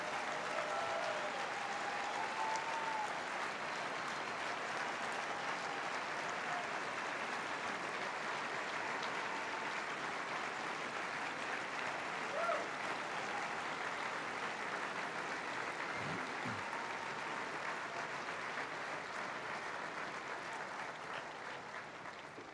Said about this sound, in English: I would like us to give her a round of applause